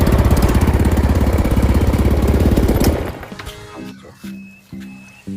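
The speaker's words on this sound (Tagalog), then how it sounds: "So habang umandar yung makina, nagbubugas siya ng hangin" A small engine runs with a fast, pulsing chug, its air pump pushing through a fuel cock fitted with an o-ring, then it cuts out and leaves a few sputters, clanks and knocks.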